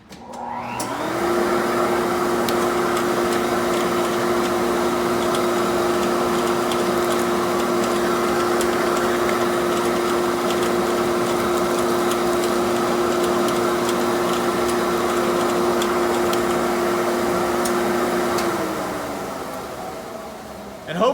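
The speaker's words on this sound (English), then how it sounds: "The vacuum was pulling all of the little bits of wood right out of the hole as I drilled." Shop vacuum drawing wood chips from holes as a drill press bores into wood, a continuous loud droning whine held steady for most of the span before spinning down at the end.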